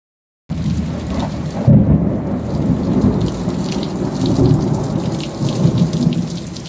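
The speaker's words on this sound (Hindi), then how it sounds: "इस पहाड़ क्षेत्र में झमाझम बारिश गिर रहा है" Heavy rain pours down loudly and steadily in a hilly rural area of Jashpur, with deep rumbles of thunder rolling underneath the constant downpour.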